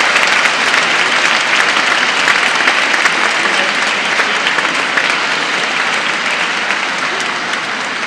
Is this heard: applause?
yes